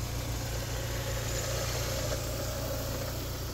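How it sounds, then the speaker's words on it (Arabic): A Peugeot 406 car engine idles steadily up close, a low even hum and rumble with faint vibration and no voices over it. "شو وريهم الموتور كي داير"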